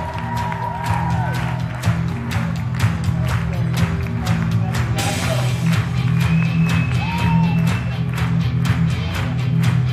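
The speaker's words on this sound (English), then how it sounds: "Let's give them a big round of applause." An audience applauds panel guests at a fan convention with dense, steady clapping that lasts throughout. Voices and some crowd noise mix in underneath.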